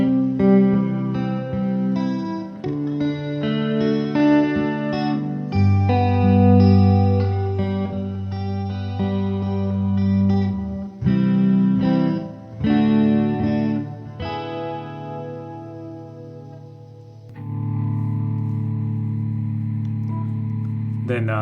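Electric guitar through a LEKATO Micro FX headphone amplifier with a shimmering, swirling chorus tone plays a chord progression, sustained and loud, with no voices.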